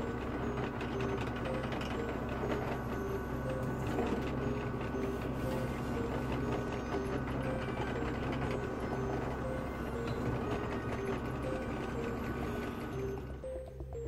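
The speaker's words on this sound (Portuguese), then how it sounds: "de 16 em 16 centímetros, deixando uma borda para fora, eu vou fazer furos neste cano" A power drill bores holes into a PVC pipe with a continuous loud motor whine and grinding hum held steady for most of the stretch, close by, easing slightly at the end.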